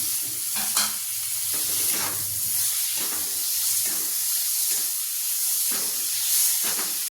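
Chopped tomatoes dropped into hot oil and spiced masala in a pan, giving a steady loud sizzle and hiss throughout with occasional stirring scrapes.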